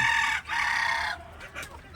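A native country rooster crows close by on a small poultry farm, a loud, strained call that cuts off into a few brief clucks.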